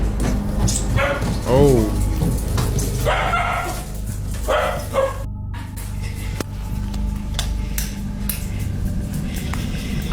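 A pet dog barks and yips in bursts indoors, close by, mixed with excited voices talking and exclaiming.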